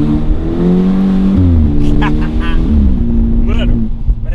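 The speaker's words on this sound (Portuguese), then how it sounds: "chega a dar um estouro no escape, vai" A BMW Z4 with a straight-pipe exhaust revs in rising and falling steps, loud and close, with a few sharp pops near the end and someone talking over part of it.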